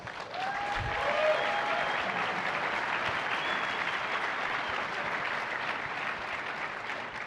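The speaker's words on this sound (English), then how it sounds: "Please give that group a round of applause." Sustained audience applause fills a large conference hall at the 2018 Red Hat Summit, steady and dense throughout, with brief voices or a faint whistle near the start.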